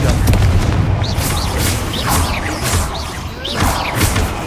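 Repeated booming spell blasts in Hogwarts Legacy, the Confringo fire curse, go off as several punchy impacts with whooshing tails over a busy game soundscape, each burst landing roughly a second apart.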